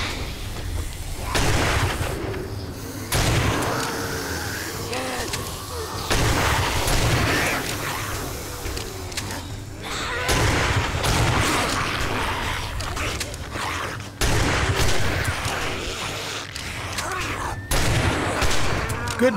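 Repeated booming blasts and gunfire from pipe bombs and weapons in the zombie survival game 7 Days to Die during a nightmare horde night, dense and continuous with several loud hits and a voice talking at times.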